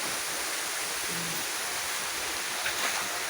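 Clean mountain spring water flows in a steady, unbroken rush, close and even throughout, with no voices.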